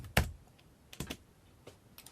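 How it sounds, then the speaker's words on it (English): Keys struck on a computer keyboard attached to an 8-bit TinyBASIC home-built computer: a few sharp separate clicks, one loud press followed by a cluster of softer taps, close and clear with no talking. "if I now hit a key on the keyboard"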